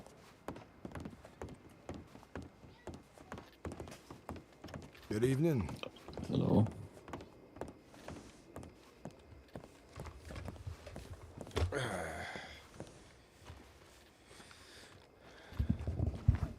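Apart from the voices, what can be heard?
horse hooves clip-clop from a roleplay video game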